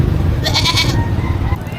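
Goats bleat in a crowded livestock auction market at dawn, a brief high wavering call rising over a steady murmur of voices and yard noise.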